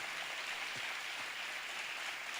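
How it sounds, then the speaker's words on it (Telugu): A large church convention audience in Andhra Pradesh claps continuously as an offering, a dense rain-like roar of hands that stays constant and fairly distant throughout. "Continue to give clap offering unto Jesus."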